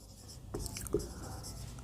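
Chalk or a marker scratches across a classroom board in short strokes, close and moderately loud, over a faint background hum with a few light taps.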